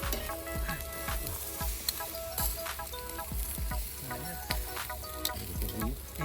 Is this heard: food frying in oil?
yes